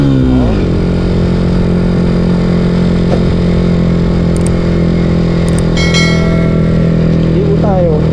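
A Yamaha Sniper 150 motorcycle engine idles close by with a steady buzz, blipping up briefly at the start and again near the end.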